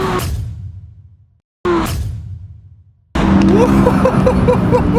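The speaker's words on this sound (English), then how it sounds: "Oh, it's a fast friggin' car. What a noise, too." A sports car in a drag race gives two sharp engine bursts that fall away quickly, then a sustained, loud, rising engine roar with a strong tonal whine as it accelerates.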